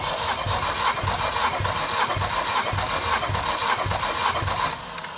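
An Opel 2.2-litre Z22XE engine cranks steadily during a first-cylinder compression test, a regular rhythmic pulse from the starter, close and loud for several seconds before slowing at the end.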